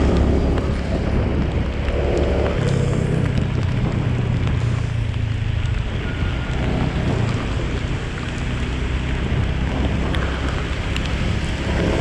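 Rain falls steadily on a street in a traffic jam near Bangla Sahib Gurudwara in Connaught Place, a continuous wash of patter mixed with wind rumble and low traffic noise.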